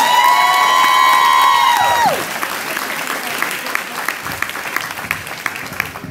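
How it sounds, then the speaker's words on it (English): A short music phrase cuts off, then a studio audience at a Latin dance showcase breaks into applause with scattered cheers and whoops, clapping continuing steadily to the end. "Give him a hand again, guys. One more time."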